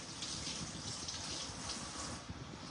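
A kitchen tap runs steadily as old carrots are rinsed under it, a soft continuous splashing close by, quiet and with no voices.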